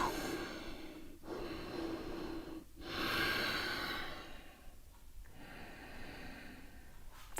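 Slow, audible breaths drawn in and let out while a yoga pose is held, long airy swells with brief pauses between them, close and unhurried in a quiet room.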